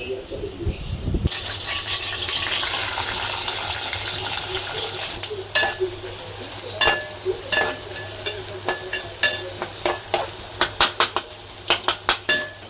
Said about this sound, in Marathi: आता इथं कांदा लाल करते.